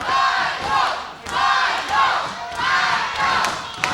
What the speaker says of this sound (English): Here's the crowd here in Davis Arena.